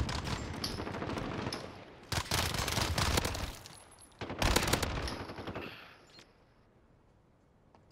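Short two-round bursts from a Vector submachine gun in Modern Warfare, loud and close, fired in several clusters with brief gaps and a final pop at the end.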